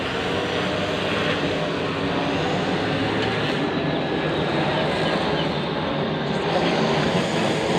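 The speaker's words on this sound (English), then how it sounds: "Military plane just went over too." Loud, continuous roar of a military plane passing overhead, a broad rumbling wash that holds steady throughout.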